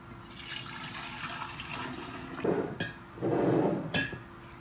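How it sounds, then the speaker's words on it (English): Sweetened tea is poured into three kombucha brewing vessels at home, liquid splashing and gurgling in short bursts with small clinks of glass between pours, close and moderately loud. "pour it evenly into 3 vessels that we have here"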